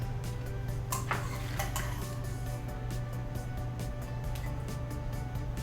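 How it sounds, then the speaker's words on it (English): Porcini mushrooms strained out of a cooking pot, with steady metallic clinks and scrapes of pot and utensils over a constant kitchen hum. "You're going to strain the mushrooms."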